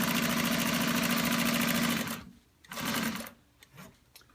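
A Consew 1541 walking-foot industrial sewing machine stitches steadily and loudly for about two seconds in a fast, even mechanical rhythm, then stops, followed by a few brief clunks and handling noises.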